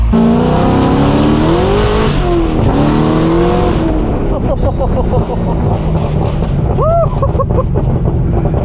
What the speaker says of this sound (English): we are jumping in the 2010 ZR1 for a little drive